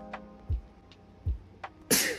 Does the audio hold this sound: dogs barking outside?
no